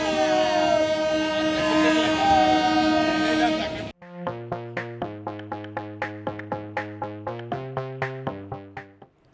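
Godavari Express train passing, a long sustained horn blast first, then a rapid regular run of loud clickety-clack wheel beats over rail joints, close by and fading at the very end.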